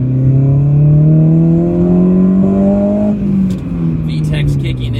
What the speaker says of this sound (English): VTEC's kicking in